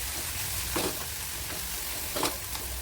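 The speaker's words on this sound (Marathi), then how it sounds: "जो आपण कांद्याची पात चिरली होती ती व्यवस्थित परतून घ्यायची" Chopped spring onion sautés in a pan over medium heat, giving a constant, near frying hiss with two distinct spatula scrapes across the pan surface.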